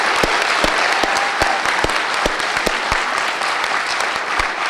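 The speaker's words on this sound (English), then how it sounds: "He deserves another round of applause for the victory that he led us to today." Loud, sustained applause from an audience at a media town hall, with dense clapping and a few sharp individual claps standing out, no speech over it.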